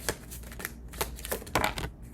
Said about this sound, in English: I'm gonna finish this shuffle.